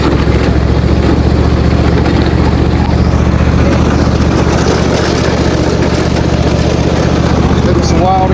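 A garden tractor engine runs steadily near the microphone as it is driven into a barn, a loud, constant low rumbling drone with faint voices underneath.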